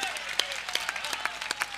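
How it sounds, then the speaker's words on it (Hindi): Scattered clapping from an audience at a Hindi poetry recital, a few distinct claps spaced irregularly, fairly close and moderately loud. "एक बार तालियां बजाइए"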